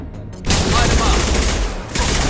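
Rapid bursts of gunfire in the video game Mass Effect Legendary Edition, loud and sustained for about a second and a half after a short quiet opening, with a voice briefly audible in the mix.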